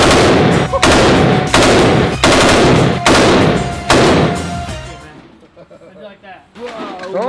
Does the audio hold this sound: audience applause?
no